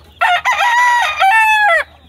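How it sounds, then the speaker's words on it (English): A rooster crows once, close and loud, a long ringing cock-a-doodle-doo with a low steady hum underneath. "I just wanted to show my favorite rooster."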